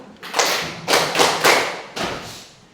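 A classroom group claps together in a few sharp, unison bursts, loud and close, with short gaps between them and no talking.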